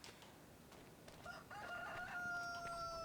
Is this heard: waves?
no